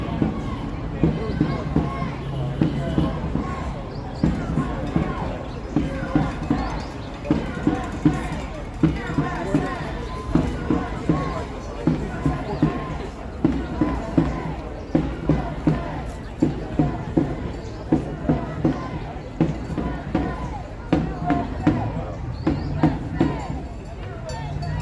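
A large crowd at a No Kings rally in Auburn, Maine, with steady babble of many voices, scattered cheers and shouts, and people talking throughout.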